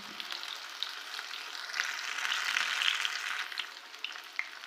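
Fish fries in a pan with a continuous bright sizzle that swells a little in the middle, close and fairly soft, with crackling pops scattered through and no talk.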